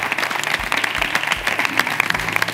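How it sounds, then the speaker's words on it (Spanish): Loud, sustained applause from a crowd at a university graduation ceremony, dense clapping running steadily throughout. "Aplaudiments! Per favor!"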